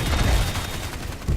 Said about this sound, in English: And then he's also got sentry guns